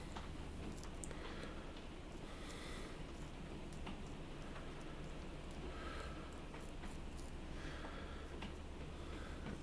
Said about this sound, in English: rain really pouring down here now